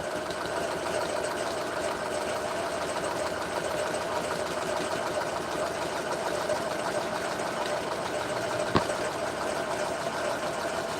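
A sewing machine runs continuously, stitching a white satin stitch onto a purse, giving a steady mechanical hum and fast, even whir with one sharp click near the end.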